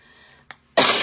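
A single sharp cough bursts out loud and close after a faint earlier throat sound, with no talking during it.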